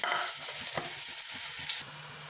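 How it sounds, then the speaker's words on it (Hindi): Finely chopped onions frying in about half a cup of hot oil for an aloo gobi gosht curry, a dense continuous sizzle with stirring, close and moderately loud, no voices. "ऑयल ऐड किया आधा कप, बारीक कटे हुए प्याज ऐड करेंगे।"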